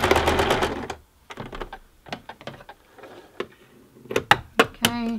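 A sewing machine sews a couple of straight stitches on a hand-woven Christmas ornament. A dense mechanical whir opens, followed by scattered close clicks and taps as the fabric is handled, and there is no speech.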